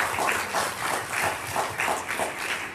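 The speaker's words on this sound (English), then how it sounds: "just a round of applause for Church Health and Dr." Applause from a church audience honoring Church Health and Dr. Scott, a moderate wash of clapping that swells in several waves across the moment.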